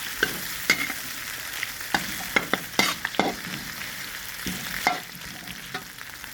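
Salted fish and garlic being stir-fried in a pan for Chinese kale with salted fish: a steady, faint sizzle broken by sharp spatula scrapes and clacks against the pan.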